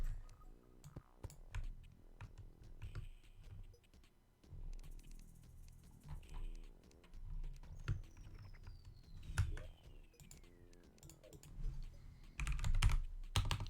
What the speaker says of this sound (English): What am I typing?